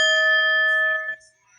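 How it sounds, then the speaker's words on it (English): A single bright bell is struck once near and loud, ringing out with a sustained tone that fades after about a second. "Let's hit the bell"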